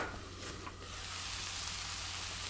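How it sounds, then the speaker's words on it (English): Onions sauté in a pan for a Turkish pea stew, giving a steady, close broadband sizzle that holds evenly throughout with no talking. "after sauteing the onions for a couple of minutes"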